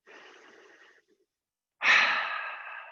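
Slow, audible breathing during a yoga class: a soft, drawn-out inhale, a brief pause, then a louder, fuller exhale that tapers off, close and alone.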